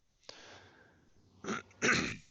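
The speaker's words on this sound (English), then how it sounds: "let me clear my throat" A faint breathy exhale followed by two short, forceful throat-clearing bursts, close to the listener, with a brief pause between them.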